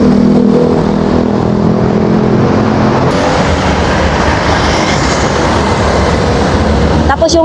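An elevated light rail train rumbles past overhead on Roxas Boulevard, Parañaque, a steady loud roar with rattling, mixed with traffic noise and brief talk nearby.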